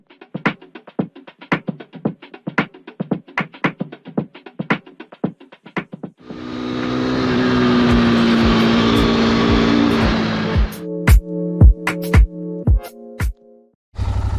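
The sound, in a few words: Royal Enfield Continental GT motorcycle riding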